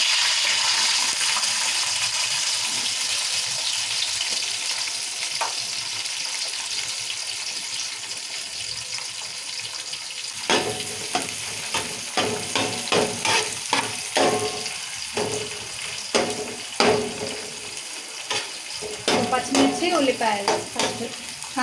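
Onions and green chillies fry in hot oil for egg biryani, a continuous close sizzle that turns into rapid stirring with repeated spoon scrapes and clatters against the pan.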